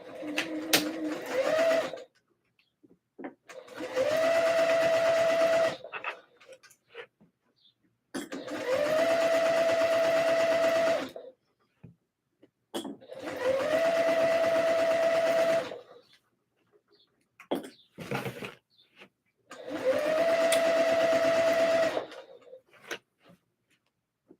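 A sewing machine set to a longer stitch length runs in five separate bursts of a few seconds each, a steady mechanical whir with rising pitch at each start, separated by near silence and small clicks.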